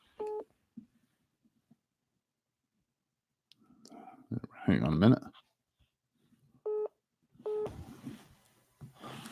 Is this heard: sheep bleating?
no